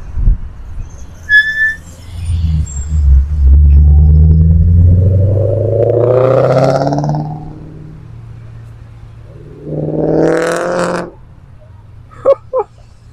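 Audi S4 with a loud exhaust rumbling nearby, a deep throaty drone that swells and fades, followed by a second shorter burst, with faint bird chirps early on.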